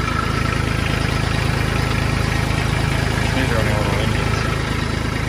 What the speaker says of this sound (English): the oil pressure lights are on. Let's let it run for about 30 seconds to a minute.